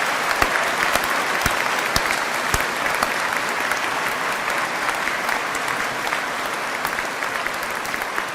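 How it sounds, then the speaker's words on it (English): Graduation ceremony crowd gives university staff a long, warm round of applause, dense sustained clapping filling the hall at an even level with a few sharper individual claps. "I'm sure you'd like to join me in giving them a warm round of applause"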